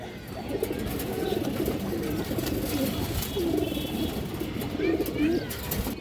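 Indian highflyer pigeons in a loft, giving soft repeated throaty coos close by over a steady background, with a voice talking over them.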